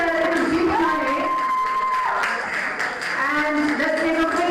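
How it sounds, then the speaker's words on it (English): Crowd cheering and applause for the secretariat of the GBMUN 8 school model UN conference, a dense wash of voices and whoops from a large audience, loud and steady, with a dip midway and cheering swelling back. "let's hear for a huge round of applause for the entire Secretariat of GBMUN 8"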